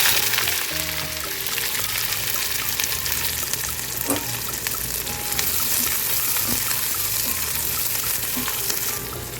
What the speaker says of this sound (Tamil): இப்போ நம்ம வெட்டி வச்ச சின்ன வெங்காயத்தை ஆட் பண்ணிக்கலாம்.